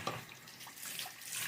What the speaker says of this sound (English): I'm just gonna rinse the wheels off.